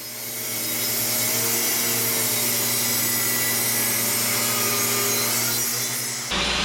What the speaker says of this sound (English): we're going to switch over and start cutting the Purpleheart